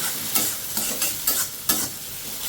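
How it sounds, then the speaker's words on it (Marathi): Ginger garlic paste fries with tomatoes and onions for a chicken dum biryani, a loud close sizzle broken by several quick stirring scrapes. "यात आपण टाकूया आलं लसणाची पेस्ट आणि ही 2 मिनिटाची मस्त फ्राय होऊ द्यायची त्याच्यात"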